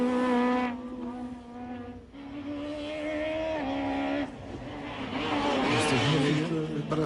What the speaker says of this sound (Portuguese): O carro da Renault Portuguesa, o José Carlos Macedo ou o Pedro Azevedo.